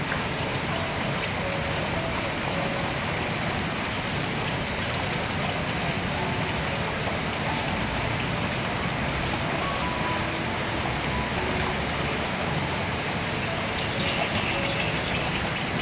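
Steady rain pours down continuously in rural Surin province under overcast skies, a dense hiss of drops hitting surfaces with no break throughout.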